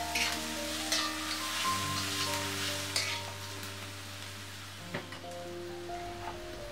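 Chopped onion frying in oil with ginger, green chilies and curry leaves, a steady close sizzle with occasional stirring clicks and a faint background hum, no voices.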